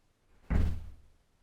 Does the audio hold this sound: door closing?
yes